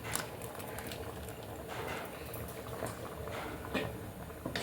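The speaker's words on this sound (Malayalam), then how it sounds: "ഒന്ന് തിളച്ച് വരട്ടെ" Liquid in a cooking pot coming to a boil with Kashmiri chilli, a steady bubbling and popping patter that stays close and continuous, with no talk.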